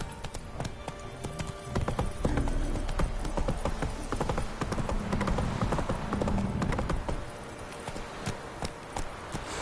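A horse galloping in the video game The Witcher 3, rapid rhythmic clip-clop hoofbeats close by with a brief whinny, mixed with faint game ambience.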